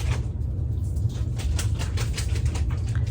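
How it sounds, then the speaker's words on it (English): Busy clattering and scratching in short irregular bursts over a low steady rumble, a dog digging and shuffling through items in a closet nearby. "So if you can hear some noise, Taco found something in the closet."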